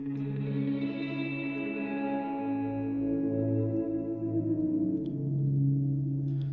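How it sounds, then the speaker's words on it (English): A synth tone runs through a delay plugin whose wear control acts as a filter, steadily stripping away the highs until mostly low, sustained tones remain, heard alone with no voices. "then we have the wear control, which seems to be acting like a filter."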